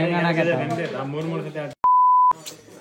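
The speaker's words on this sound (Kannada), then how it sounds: "ಅವು ವಿಡಿಯೋದಾಗ ಬೀಪ್ ಹಾಕ್ತೀವಿ ಆದಷ್ಟು" A steady censor beep tone, edited in over a casual talk among friends on a trip to Dandeli, cuts in after speech and holds for about half a second, loud and alone, before chatter resumes.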